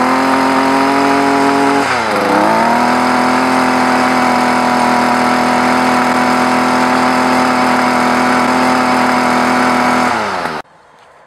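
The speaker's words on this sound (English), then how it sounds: "you need to crank for start the engine" A loud engine shifts pitch as it is cranked around the two-second mark, then settles into a steady, even run that continues until it cuts off abruptly just before the end.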